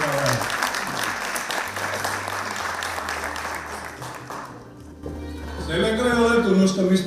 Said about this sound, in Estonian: Ärge olge aplausiga kitsi.